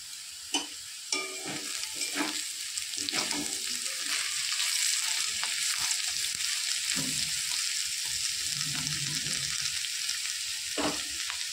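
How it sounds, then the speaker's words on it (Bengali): Potato peels fry in a pan, a continuous oily sizzle broken by clinks and scrapes of stirring, close and moderately loud with no speech. "প্রায় আমার ভাজা হয়ে এসছে। এবার আমি আর একটু নেড়ে চেড়ে নামিয়ে নেব।"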